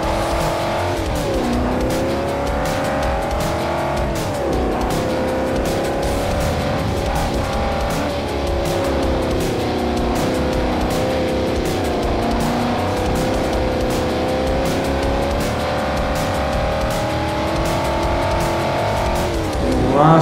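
Race car engines roar steadily in Forza Motorsport 4 during a Class B world championship race, with a loud continuous drone rising and falling through gear shifts and a hint of tire squeal, and no talking.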